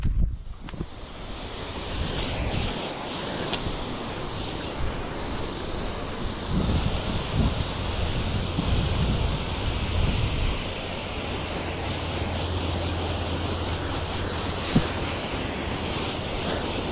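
Wind blows outdoors, a steady broadband roar with gusty swells buffeting the microphone for the whole stretch, no voices present.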